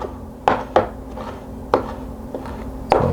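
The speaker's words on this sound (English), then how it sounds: "I do want to chop it fairly fine." A knife chops a pepper finely on a cutting board, with a handful of sharp, separate knocks spaced irregularly and a soft scraping between strokes.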